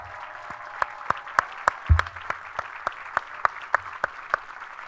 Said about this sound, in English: join us in applause to thank your family and friends